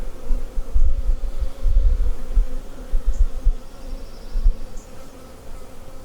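Honey bees buzz around an open hive in a bee yard, a steady close drone with a few louder passes near the microphone and occasional low bumps.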